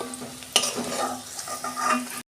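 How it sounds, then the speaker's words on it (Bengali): Paneer cubes frying in hot oil give a steady sizzle, with a sharp clink near the start as a utensil stirs and lifts the pieces out of the pan. "আমার পনির ভাজা হয়ে গেছে"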